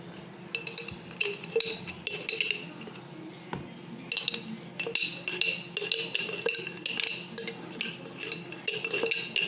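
Cooked pasta, vegetables and creamy mushroom sauce are stirred together in a dish, giving steady scraping and clinking of a utensil against the dish at close range, with no talking.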